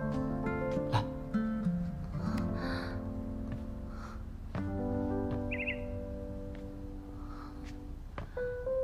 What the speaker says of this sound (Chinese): 小鸟，哇，好可爱的小鸟